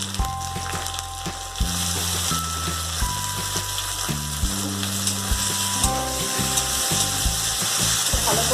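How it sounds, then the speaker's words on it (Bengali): Chopped tomatoes and onion fry in a pan with a loud, dense sizzle, beneath a steady tonal, stepping musical layer with regular beats. "ভালো করে আমি ফ্রাই করে নেব।"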